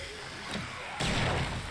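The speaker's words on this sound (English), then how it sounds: "Maybe we can try out these contact grenades from the rooftop" A contact grenade thrown from a rooftop in 7 Days To Die bursts with a sudden loud blast partway through, after a fainter thump and a low background rumble.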